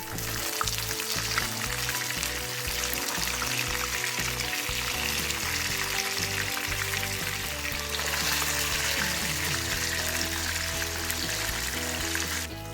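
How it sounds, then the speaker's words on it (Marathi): Rohu fish pieces frying in a pan until crispy, a steady loud sizzle running throughout with stirring and scraping sounds and steady background music. "हे चांगले क्रिस्पी होईपर्यंत फ्राय करून घेतले आहेत"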